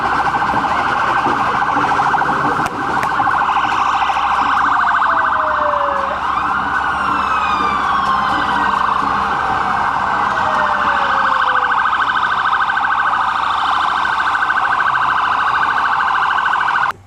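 Loud police sirens wail continuously during a G20 protest in Pittsburgh, with tones sweeping up and down and overlapping, sounding close by and steady throughout.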